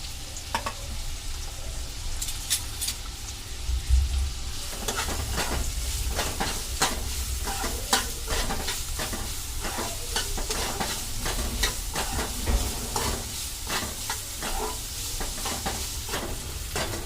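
Finely chopped onion and a little ginger fry in a pan for paneer bhurji, a steady close sizzle broken by repeated scraping stir strokes throughout, with no voices.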